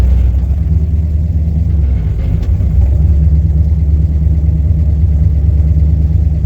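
A car engine fitted with FiTech fuel injection idles with a steady, low rumble that holds constant throughout, close by and fairly loud.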